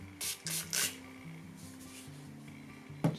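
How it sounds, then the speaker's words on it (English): Three short hissing bursts of a fine mist spray in quick succession, close by, followed by a faint puff near the end over a quiet background hum. "Just gonna spray my face before I apply some highlighter."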